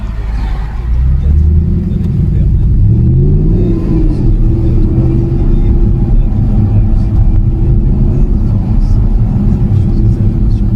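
Inside an Audi R8 with a 4.2-litre V8, the engine rumbles and revs as it accelerates, pitch climbing then holding at a loud, steady roar.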